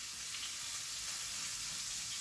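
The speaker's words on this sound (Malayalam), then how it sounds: "അപ്പം നമ്മുടെ കടുകിട്ട് കൊടുത്തു, സവാള ഇട്ട് കൊടുത്തു, നമുക്ക് നന്നായിട്ടൊന്ന് വഴറ്റിയെടുക്കാം" Onions and mustard seeds sauté in a pan for a Kerala country-style dish, giving a steady, close, broadband sizzle with a faint stirring texture and no talk.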